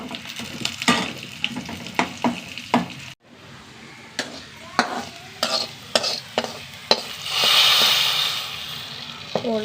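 Onions frying in hot oil with curry leaves and chilli powder for a ridge gourd and dal curry, a steady sizzle broken by repeated sharp scrapes and clacks of a spoon stirring in the pan.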